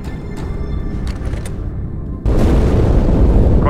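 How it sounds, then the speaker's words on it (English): A loud boom erupts in Halo 2, breaking in abruptly after a steady low rumble of game ambience and leaving a heavy, sustained roar that fills the rest of the moment. "That explosion came from inside the Athens."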